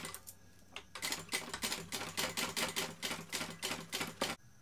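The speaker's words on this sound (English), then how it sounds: "I'm just basting it on at 1/8 of an inch from the top edge" A sewing machine bastes zipper tape for a bag pocket, its needle chattering in rapid rhythmic bursts that run for several seconds and stop abruptly.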